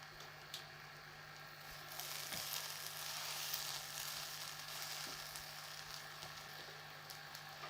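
Shredded cabbage and finely chopped capsicum frying in a pan give a steady, close sizzle with faint crackles and stirring scrapes, swelling slightly midway, with no talking.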